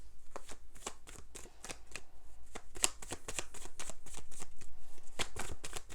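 A deck of tarot cards is riffled and shuffled close up, a rapid run of crisp papery flicks and slaps repeating steadily in a quiet room.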